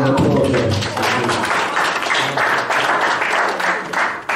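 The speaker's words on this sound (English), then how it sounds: "Another round of applause" A wedding reception crowd bursts into loud, dense applause for the bride and groom during the speeches, steady clapping that holds for several seconds before tapering.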